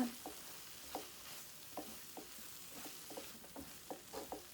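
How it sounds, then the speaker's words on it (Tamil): Vegetables, paneer and salt stirred together in a bowl for a mixed veg paratha stuffing, giving soft repeated scraping and squelching strokes at a steady rhythm, close and fairly quiet, with no voices. "இப்போ இதை நல்லா மிக்ஸ் பண்ணிக்கோங்க"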